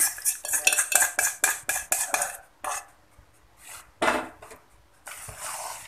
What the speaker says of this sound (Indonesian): Lalu saya aduk-aduk menggunakan spatula.